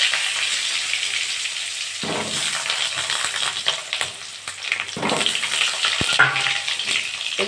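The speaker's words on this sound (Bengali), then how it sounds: "আমি একটু লাল করে আগে আলুগুলো ভেজে নেব।" Chandramukhi potatoes frying in hot oil with dried red chilli and bay leaf, a steady loud sizzle with occasional stirring scrapes and clanks of a utensil against the pan.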